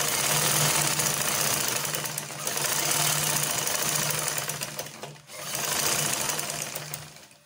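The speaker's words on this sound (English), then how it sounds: "let me sew in a little." Sewing machine running in bursts while stitching a shift dress, taking in a seam; a steady loud mechanical whir in three long runs with brief pauses between them.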